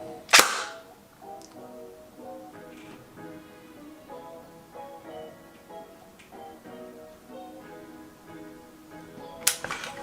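A G&G RK74-E airsoft electric rifle, an AK74 replica, firing on semi-auto, a sharp crack at the start and another near the end, with faint clicks and a quiet mechanical hum in between.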